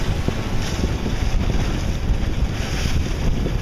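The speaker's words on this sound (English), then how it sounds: "Getting a little bit gusty there, so I let the sails out a little bit." A reefed sailboat runs in winds around 20 knots toward Navy Pier, Chicago, with strong steady wind roar buffeting the microphone and water rushing along the hull. Gusts swell and ease throughout, and no voices are heard.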